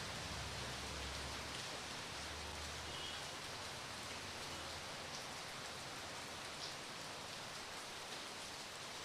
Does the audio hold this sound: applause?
no